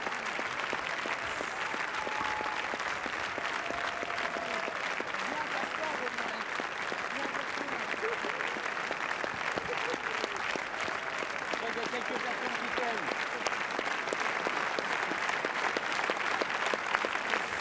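Crowd applauding on the Cannes festival red carpet, continuous dense clapping that holds steady throughout, with voices talking over it.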